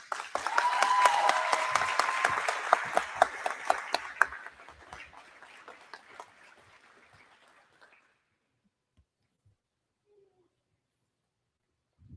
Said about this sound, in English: Round of applause for our 26-27 Miss Jackson County, Peyton Craig